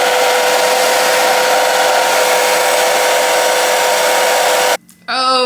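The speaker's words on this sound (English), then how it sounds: "let's blow dry this" A hair dryer roars steadily and loudly at close range while blow drying an ash blonde dark-root 13x4 lace frontal 26-inch wig, then cuts off abruptly near the end, leaving brief quiet before another sound starts.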